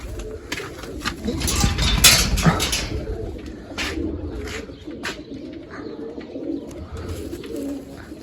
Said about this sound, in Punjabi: ਇਹ ਆਪਾਂ ਸਾਰੀਆਂ ਹੀ ਕੱਢ ਦੇਣੀਆਂ ਇੱਕ ਇੱਕ ਕਰਕੇ ਸਾਰੀਆਂ ਕੱਢ ਦਿੰਨੇ ਆਪਾਂ ਬਾਹਰ